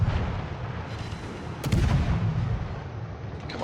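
Battleship guns fire against the Bismarck in a naval video game, with one heavy boom rising out of a continuous low rumbling roar, loud and dense.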